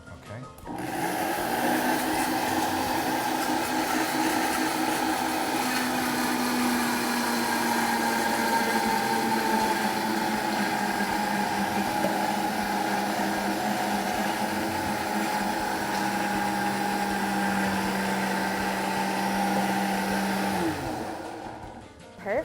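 A blender runs continuously for about twenty seconds as butter is slowly added to emulsify a sauce. It gives a loud, steady motor whine with a slight drop in pitch near the end before switching off.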